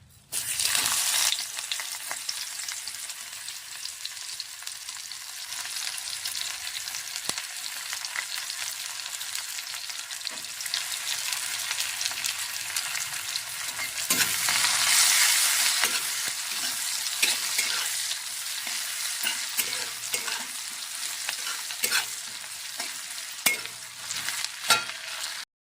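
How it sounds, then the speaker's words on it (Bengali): Chopped onion frying in hot oil in a wok, a dense continuous sizzle with occasional stirring scrapes, close and steady throughout with no voices. "এবারে কড়াই দিয়ে দিব পেঁয়াজ"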